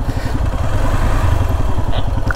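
Motorcycle engine running near a lake parking area in Mirik, Darjeeling, a loud, close, steady low throb with rhythmic pulsing and some clatter, with no talking.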